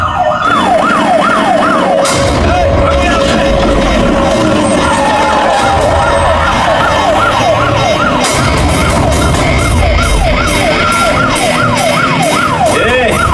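A loud wailing ambulance siren rising and falling continuously, close by, over a noisy crowd and general commotion.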